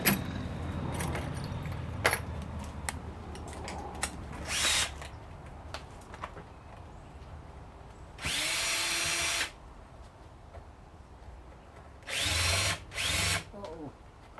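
A power drill backs out screws from a riveted-on cover, with several short, loud whirring bursts among clinks, rattles and handling of tools and parts.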